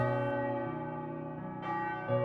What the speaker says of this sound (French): les cloches rythmaient les heures de l'activité humaine